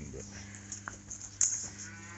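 A calf moos for its mother inside a cattle barn full of young calves, a few short calls with one louder cry standing out over a low steady hum.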